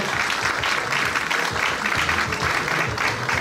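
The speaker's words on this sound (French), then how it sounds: "Est-ce qu'on peut applaudir le show qui va démarrer dans quelques instants, s'il vous plaît?" Audience applause at a charity gala evening in Brussels before a show begins, a dense steady wash of clapping, fairly loud and continuous, with low murmurs of voices underneath.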